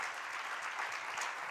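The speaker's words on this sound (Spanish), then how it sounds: "Vamos a darle un fuerte aplauso a Cristo Jesús." Steady applause from a church conference congregation, many hands clapping together at a constant level throughout.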